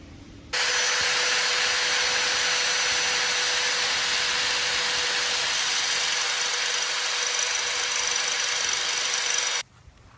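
A lathe turns a point onto a steering parts column for an electric power steering swap on a 1966 Ford Econoline, giving a steady, loud high-pitched machining whine that starts abruptly, holds evenly for about nine seconds, then cuts off.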